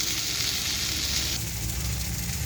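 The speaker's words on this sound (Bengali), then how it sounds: "ভেজে রাখা আলু, মাংস কষানো হচ্ছে" Mutton being sautéed in a pan with fried potatoes and garam masala, giving a steady, close sizzle that stays loud and even throughout, with a slight change in texture partway through.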